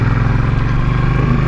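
Motorcycle engine heard while riding through Trois-Rivières, a continuous loud low drone with steady hum and slight rise near the end, no talk over it.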